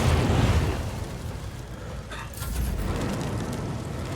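A fire grenade detonates in the video game Warhammer 40,000: Rogue Trader: a loud, deep blast opens, fades, then a second rumbling burst of fire swells and carries on steadily to the end.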